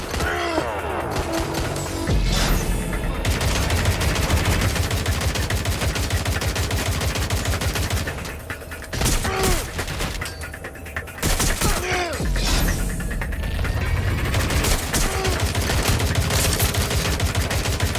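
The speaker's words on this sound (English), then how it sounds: "Suspect has opened fire!" Watch Dogs Legion gunfight in London with dense, loud bursts of automatic gunfire and single shots, nearly continuous through the clip, mixed with game effects and brief pauses.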